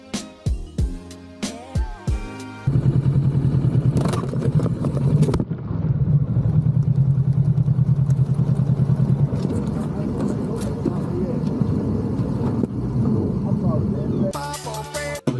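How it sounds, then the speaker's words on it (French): A Triumph motorcycle engine revs hard and climbs steadily, a loud sustained drone with rising pitch running for most of the stretch, framed by brief sharper sounds at the start and end. "J'aime beaucoup comment les tours il monte sur la Triomphe"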